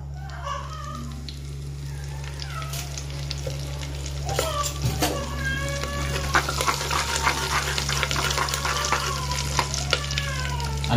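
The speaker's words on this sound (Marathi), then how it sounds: "तडतडलं पाहिजे जिरं। नंतर आपण राई टाकूया" Cumin and mustard seeds crackle and sizzle in hot oil for egg masala khichdi, with dense, sharp pops that grow busier after a few seconds, close and clear over a steady low hum.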